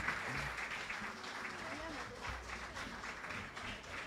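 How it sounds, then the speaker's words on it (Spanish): An audience at a university gathering of tunas and estudiantinas applauds to send off performers, giving a continuous wash of clapping at moderate volume while a voice talks over it. "Un fuerte aplauso para despedirlas."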